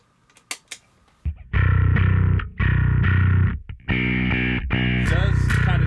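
Electric bass played with compression switched on, a few muted thumps followed by sustained thick, distorted-sounding notes in short held phrases, close and loud with no talking.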